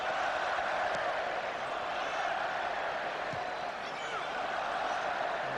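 Capacity stadium crowd at an England versus France international friendly football match, a broad steady roar of applause and cheering holding evenly throughout, with faint bounce-like thuds at moments.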